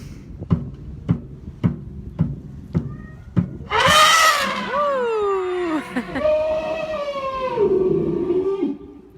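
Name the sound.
Asian elephant vocalizing, played from a past session recording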